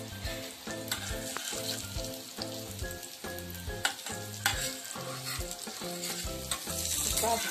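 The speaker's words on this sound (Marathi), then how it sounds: "आता उलटी करूया आपण. व्यवस्थित भाजून घ्यायचं" Colocasia leaf vadi (alu vadi) shallow-frying in a pan gives a steady, close sizzle with occasional stirring or turning clicks, running throughout under a layer of tonal background music.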